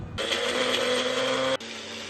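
A mixer grinder blending coconut, cashews, coriander leaves and a little water into a green chutney whirs loudly for about a second and a half, a steady mechanical drone that cuts off abruptly.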